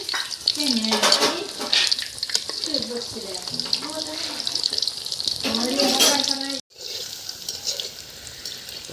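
Fish kofta balls fry in hot oil in a home kitchen with a constant bubbling sizzle and occasional stirring scrapes, while a person talks over it. The sound cuts out briefly near the end.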